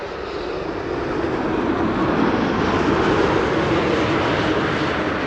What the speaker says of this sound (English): flight 808 arriving from Toronto